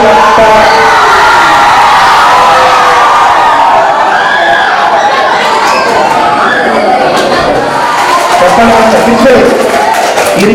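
Schoolchildren in a high school assembly shouting and cheering, a loud, dense crowd roar of whoops and chatter that stays constant throughout, with shrill voices rising over the din.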